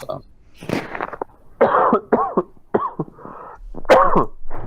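Several harsh, bursty coughs and throat-clearing sounds close to the mic, coming in quick irregular bursts with short pauses between them.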